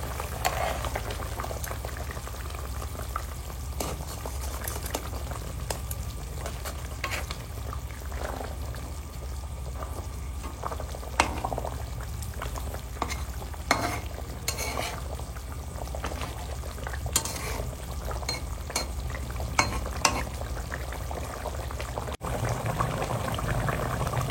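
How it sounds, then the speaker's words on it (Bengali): A pot of hilsa fish curry broth boils steadily, with constant bubbling and occasional sharper pops throughout, fairly close and without speech. "ঝোলটা ফুটে গেছে"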